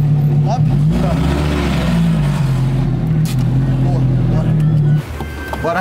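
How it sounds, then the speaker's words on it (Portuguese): Lamborghini with a modified straight-pipe exhaust rumbling loudly close by, a sustained deep engine drone with slight rises in pitch before cutting down near the end, while people talk over it. "Mano, já estamos colocando a segunda parte do escapamento."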